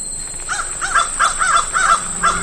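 Crows caw repeatedly in the horror game Seven Mysteries, a run of harsh, rasping calls over a steady high electronic whine, fairly loud and with no voices.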